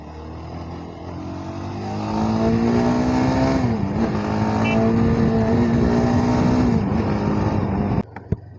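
Yezdi Adventure motorcycle being ridden, the engine droning steadily and rising in pitch as it accelerates, loud and close, with wind noise and a couple of knocks at the end.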